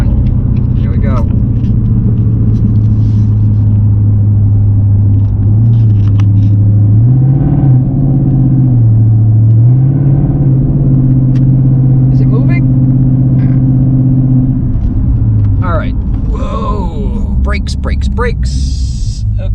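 A 2019 Mustang GT pushed hard through a long turn gives a loud, steady engine drone whose pitch wavers and rises mid-corner, close inside the cabin, with brief talk near the end.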